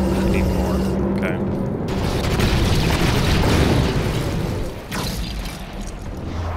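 A column crumbles apart in LEGO Star Wars III: The Clone Wars with a sustained loud rumble of booms and clattering debris, and a voice speaks over it.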